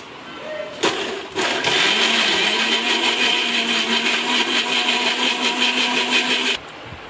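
A mixer grinder whirs steadily for several seconds, blending cooked, seeded tamarind pulp into a smooth paste for a fresh prawns pickle, its motor starting abruptly and cutting off at the end.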